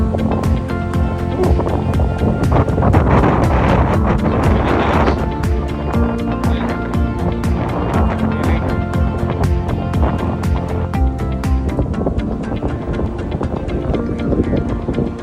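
Steady, heavy wind buffets the microphone throughout, a continuous roaring rush with gusty swells and a low rumble underneath.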